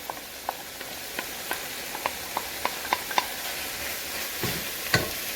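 Fresh vegetables for an Italian-style chili go into a pan and are stirred, giving a low sizzle with a series of light scraping clicks from the spoon, close and fairly quiet, with no voices.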